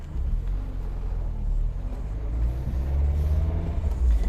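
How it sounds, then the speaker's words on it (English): Low road rumble and body noise from inside a 1990 Mazda NA Miata being driven with noisy suspension, a steady rolling drone that swells slightly toward the end, with no voices. "Yeah, there's a lot of noise in the suspension."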